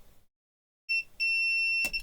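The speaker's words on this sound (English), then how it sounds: "what we're hoping to hear here is a beep" A short silence, then a high electronic beep from a multimeter continuity test sounds twice briefly before holding as a steady tone, ending in a small click.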